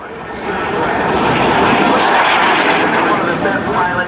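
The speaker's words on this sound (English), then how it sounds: "that's a F-86 Sabre" A North American F-86 Sabre jet at an air show swells in from quiet into a broad roaring rush that stays loud for several seconds, with a voice talking over it.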